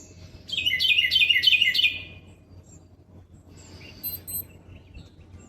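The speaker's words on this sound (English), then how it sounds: "Birds are already out here." Birds chirp in the early morning near a house in Georgia, with one bird giving a quick, bright run of repeated chirps, followed by fainter, more scattered calls over a low, steady background hum.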